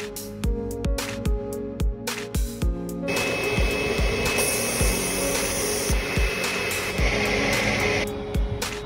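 HMPX 1000 manual grooving machine on a pulp molding production line, a dense mechanical whir with rhythmic knocking beats throughout and a high steady whine joining midway, loud and close.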